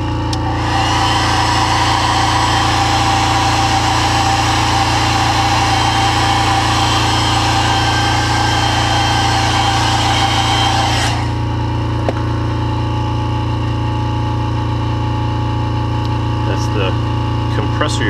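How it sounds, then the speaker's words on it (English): Air compressor running loudly and filling its tank with a steady droning hum and hiss, then cutting off abruptly partway through, leaving a lower hum and occasional faint taps. "Compressor you're hearing filling up the tank."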